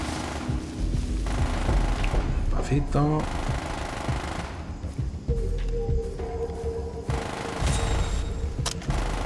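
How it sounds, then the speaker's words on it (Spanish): Gunshots ring out in the Far Cry 3 video game, fired into the air as rapid cracking bursts amid jungle ambience and clattering game sounds, with a player talking over them. "dando tiros al aire"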